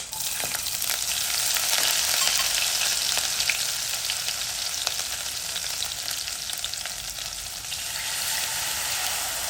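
Chopped green chillies and ginger paste sizzle hard in hot ghee and oil with mustard seeds, cumin, cinnamon and cloves for a kadhi tempering, a loud continuous crackling hiss with no voices.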